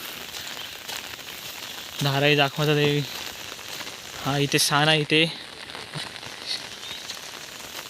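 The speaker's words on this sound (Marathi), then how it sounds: "पाऊस जोरात आहे" Steady heavy monsoon rain in a Konkan village near Khed hisses throughout, with someone talking briefly over it twice.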